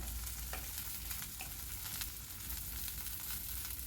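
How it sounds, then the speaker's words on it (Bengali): A handful of sweet corn goes into a hot frying pan, setting off a steady, close sizzle with a few soft stirring scrapes throughout and no talking. "এখানে আমি এক মুঠো সুইট কর্ন দিয়ে দিলাম"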